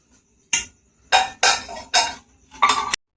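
A lid set on a pot of payesh, a Bengali rice pudding simmering over a low gas flame, giving four or five close metallic clanks and clinks in quick succession with short silences between.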